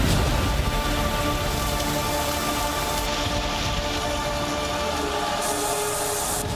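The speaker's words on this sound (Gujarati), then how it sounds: "મધ્ય ગુજરાતમાં ભરપૂર વરસાદ" Heavy pre-monsoon rain pours down across central Gujarat, a dense, steady hiss of drops striking surfaces, loud and unbroken throughout with no voices.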